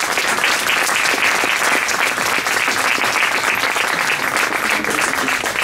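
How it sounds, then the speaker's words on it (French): Sustained, dense clapping from a large audience at a jazz festival concert, even and loud throughout, with no voices standing out. "je voudrais que vous les applaudissiez pour nous"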